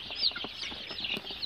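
Soft, continuous cheeping of one-day-old local chicken chicks, many thin high peeps overlapping in a quick, busy chorus, slightly distant and without any voices.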